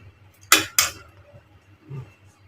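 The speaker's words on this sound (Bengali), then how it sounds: "মাছগুলো মশলার সাথে ভালো করে ভালো করে নেড়ে নিই মিশিয়ে দিব ভালো করে" Two sharp metal clanks of a spoon against a pan, followed by a faint scrape, as hilsa fish is turned in mustard spice paste.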